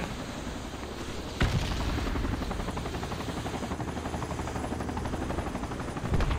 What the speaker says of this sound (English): Is that enemy helo west or friendly?